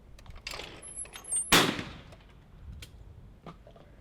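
A single loud shotgun blast fires at a rising standard clay target in Sportrap, sharp crack with a ringing decay, preceded by faint ambient noise and light background clatter.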